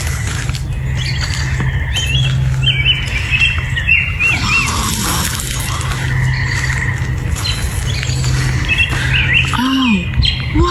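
Small bird chirps and squawky calls, close and fairly loud, repeating through the whole stretch over a steady low hum and background noise, with a brief voice near the end.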